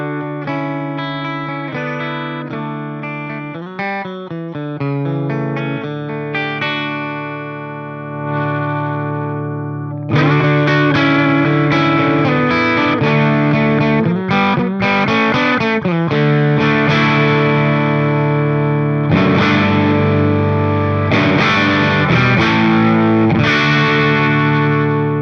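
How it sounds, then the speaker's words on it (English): A Gibson Les Paul Junior electric guitar with volume at 6 and tone at 10 plays a slightly distorted passage of strummed chords and picked notes, pausing briefly before a fuller, brighter section rings out. "So here's volume at 6, tone at 10."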